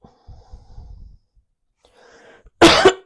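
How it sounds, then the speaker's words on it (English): A single sharp cough bursts out loud and close near the end, preceded by faint breathy throat sounds and a quiet exhale. "Now I feel the need to cough."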